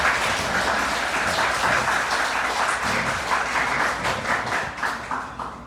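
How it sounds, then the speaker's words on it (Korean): Warm applause from a church congregation at a Wednesday service in Manila, greeting visiting missionaries from the Philippines; dense, steady clapping from many hands throughout, fairly close and even in level, with no talk over it. "우리 따뜻한 환영의 박수 한번 보내겠습니다."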